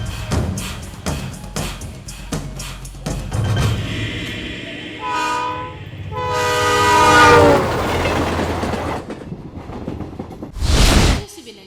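Godavari Express train pulling into a station platform, its horn sounding repeatedly among rumbling and clattering wagons, with a final sharp horn blast near the end; brief voices at the start.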